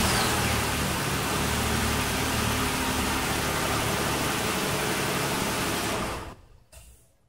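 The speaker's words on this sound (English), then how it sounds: "Start the car." Car engine started and left idling during a PicoScope automotive test, a steady broad engine roar that runs loud and close for about six seconds before cutting off abruptly.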